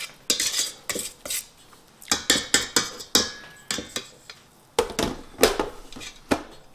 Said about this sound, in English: I'm going to mix this around just a little bit to get everything all put together.